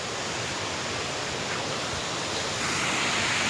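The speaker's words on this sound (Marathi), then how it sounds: "एवढा चढा नेल्यानंतर समोर धबधबा दिसायला लागला होता बघा" A waterfall at Ghonsari in the Konkan region near Kankavli roars steadily and loudly, a dense unbroken rush of falling water with no voices.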